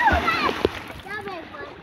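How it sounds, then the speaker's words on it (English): A splash and slosh of someone wading into a greenish-brown creek in Linden, Guyana, a short watery burst near the start with lighter movement after, while people talk throughout. "I just got in the water."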